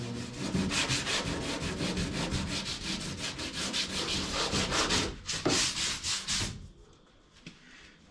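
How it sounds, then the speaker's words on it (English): Close, steady sanding of a DIY boat's bottom with 120 grit paper, heard as continuous rhythmic rubbing strokes that fade out near the end. "Okay, 120 grit, and I'm going to start sanding the bottom."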